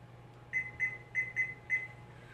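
A kitchen oven timer gives a series of faint, short electronic beeps in quick pairs while it is being set to 15 minutes, with a low hum underneath.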